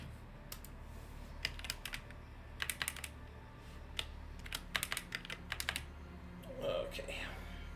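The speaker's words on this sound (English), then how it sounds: "Alright, typing up your answer." A computer keyboard typed in quick bursts of crisp key clicks, separated by short pauses over a low, steady room hum, with a soft rustle near the end.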